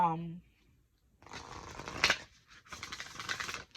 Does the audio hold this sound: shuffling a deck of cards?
yes